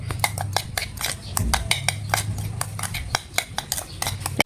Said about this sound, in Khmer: ហើយយើងវាច្បល់ចូលគ្នាអញ្ចឹងបងប្អូន